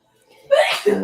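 One sharp sneeze, close and loud, with a brief intake before it and a second burst right after.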